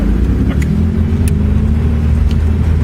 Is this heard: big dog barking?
no